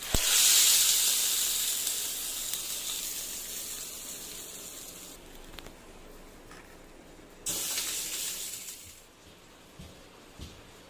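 Hot tempering of popped mustard seeds, asafoetida and curry leaves is poured over chutney, giving a loud, sharp sizzle at the start that slowly fades, with a second burst of hissing partway through.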